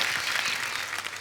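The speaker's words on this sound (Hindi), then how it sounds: "एक टैलेंटेड फैमिली के लिए जोरदार ताली हो जाए।" Studio audience applause on a Hindi comedy talk show, a steady, dense wash of clapping filling the whole short moment without a break, moderately loud and continuous with no voices over it.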